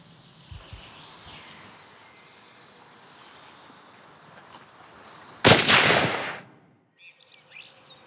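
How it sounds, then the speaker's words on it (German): A single loud, close gunshot rings out in a quiet pasture during the on-farm slaughter of a Galloway cow, its blast trailing into a short echo before faint birdsong returns; no one speaks. "Der erste Schuss muss sitzen."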